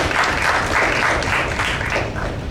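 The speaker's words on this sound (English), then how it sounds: "I would like to ask everyone to please give our guest speaker a round of applause" A seminar audience at a university law faculty applauds a guest speaker, with loud, dense clapping filling the whole short stretch.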